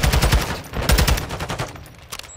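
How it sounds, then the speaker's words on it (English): Rapid in-game gunfire in Call of Duty: Modern Warfare II, a dense run of loud close shots and bursts through the first second and a half, then thinning into scattered quieter cracks, with no talk over it. "I just got sniped at"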